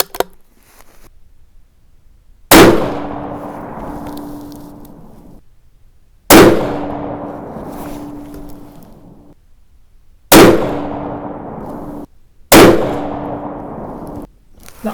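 Four sharp .243 Winchester rifle shots fired on an outdoor range, each a loud crack with a decaying echo tail, spaced a few seconds apart with no talking between them.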